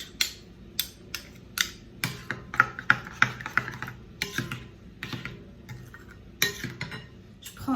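Utensil mixing gratin dauphinois ingredients seasoned with nutmeg in a bowl, giving a series of sharp clinks and scrapes at an irregular rhythm, close and fairly quiet, with no voices.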